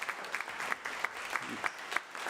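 Brief burst of clapping from a small press conference audience, a scattering of hands with sharp irregular claps, fairly close and without voices.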